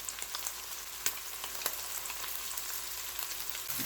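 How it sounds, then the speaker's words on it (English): Onion, garlic and pepper fry with saltfish in a pan, giving a steady, close hiss of sizzling with a few sharp crackles and pops throughout. "allow this to cook until it is nice and brown, or until the onion gets translucent"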